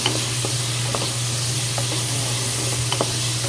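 Garlic, onion and tomato fry in hot oil, a steady close sizzle running throughout with a few light stirring knocks scattered over it.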